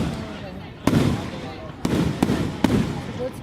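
Fireworks at a city fireworks show in Delaware: four sharp explosive bangs at irregular intervals, each followed by a rumbling decay, heard from a moderate distance over a continuous crowd and ambient noise.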